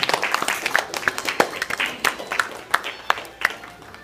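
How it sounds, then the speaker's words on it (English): Wedding guests applauding the newly married couple, a thin, uneven scatter of claps from a small crowd with a few sharper individual hand claps standing out against a soft background murmur. "Let's give them a round of applause again."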